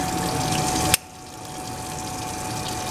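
Water runs loudly through a beer keg coupler in a steady gushing stream, then cuts off abruptly and is followed by a quieter, rising flow.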